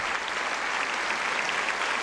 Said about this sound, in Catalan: la més gran ovació per part de l'auditori del Parlament de Catalunya